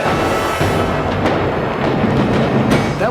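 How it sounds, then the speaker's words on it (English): A burst of booming blasts and crackling rumbles, loud and close, with sharp pops scattered through a continuous roar. "That was a nice explosion."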